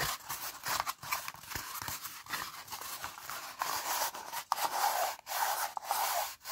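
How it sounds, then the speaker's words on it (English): Hands rub during an ASMR hospital emergency-room cranial nerve and full-body exam, a close soft brushing friction in uneven strokes with brief pauses and a few light taps. "Rubbing again, tapping,"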